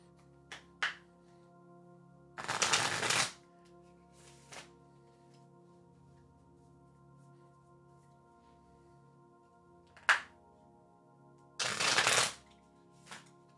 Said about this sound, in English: Lots of shuffling happening.